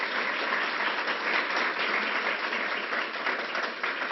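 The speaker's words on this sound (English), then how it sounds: "So ladies and gentlemen, let's give a round of applause to Harvey Stanger for his leadership." An audience at a public announcement claps steadily and loudly throughout, a dense, even wash of applause with no break.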